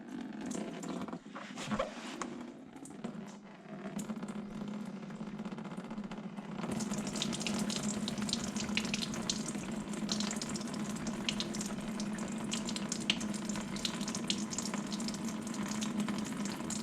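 Fluid drains from an Escort Cosworth engine during a cam belt replacement, a steady close trickle and splash into a tray that starts quietly and grows to a continuous, fuller pour after a few seconds.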